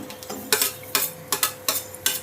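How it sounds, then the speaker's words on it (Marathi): Garlic and chilies frying in oil in a pan for a spicy kharda, stirred with sharp, rhythmic scraping strokes over a faint, steady sizzle, close by with no voices. "लसूण पण त्याच्यामध्ये थोडासा भाजून घ्यायचा"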